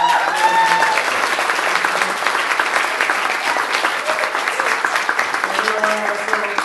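A large audience at a birthday celebration breaks into sustained applause, a dense steady wash of many hands clapping for several seconds, with a few voices faintly audible underneath.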